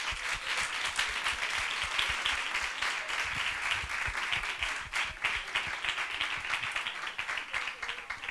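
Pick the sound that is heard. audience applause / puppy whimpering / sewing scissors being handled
audience applause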